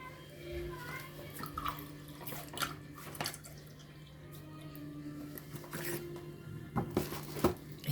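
Milk pours from a cup in a kitchen as a soft, quiet trickling and splashing of liquid, with faint clinks and low hum in the background.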